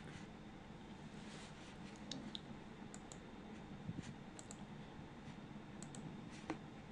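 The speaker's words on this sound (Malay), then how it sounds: "ada yang masih lagi menaip" Faint keyboard typing comes through an online Google Meet class for Year 6 pupils, scattered soft key clicks over a steady hiss of room noise.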